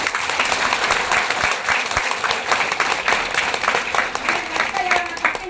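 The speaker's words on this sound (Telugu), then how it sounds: "గట్టి క్లాప్స్ కొట్టచ్చు." An audience bursts into loud, sustained applause, many hands clapping densely and evenly from start to end, with voices mixed underneath.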